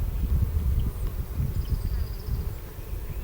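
Honeybees crowd a farm hive entrance, returning with yellow pollen loads on their legs, making a steady, close, dense buzzing hum that swells and dips with no voices.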